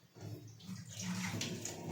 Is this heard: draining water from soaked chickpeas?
yes